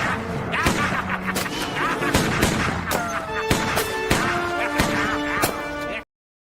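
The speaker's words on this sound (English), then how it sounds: "Hey, Paul, you want to see a gingerbread man fire a 357 Magnum?" Repeated .357 Magnum revolver gunshots from a low-budget horror movie, a string of sharp loud bangs fired in quick succession, with music and film sound mixed in behind them.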